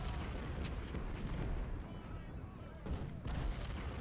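Sustained rumbling artillery fire in Ultimate General: Civil War at the Battle of Antietam, dense overlapping booms with a couple of louder surges, distant and continuous under a faint voice.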